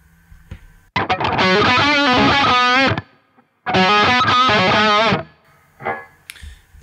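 An electric guitar played through a Line 6 Helix with reverb and delay rings out in two distorted strummed phrases, each about two seconds long, with the delay tails dying away in the short gaps between them.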